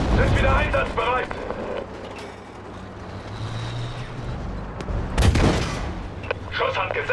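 Gunfire and artillery in the video game Battlefield 5, heavy rumbling blasts and bursts of shots that swell and fade, with a loud explosion late on and soldiers shouting over the din.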